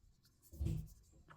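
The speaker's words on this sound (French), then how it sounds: "J'humidifie également mon papier." Brush strokes moving across watercolor paper as it is wetted down, a short soft scrape that swells to a louder brushing burst midway through and then fades, heard up close with no voices.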